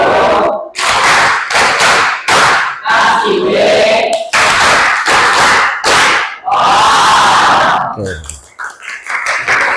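A classroom does a "tepuk wow" cheer for a classmate, rhythmic group clapping in loud bursts punctuated by shouted chanting in unison, with a short pause and quieter sounds at the end.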